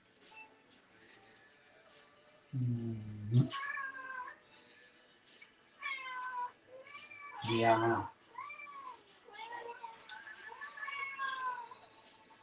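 Several house cats meowing repeatedly at close range, with two louder low yowls among higher, shorter mews, while a person talks quietly and a soft background hum continues.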